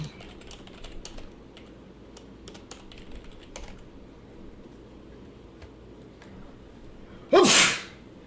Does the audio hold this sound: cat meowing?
no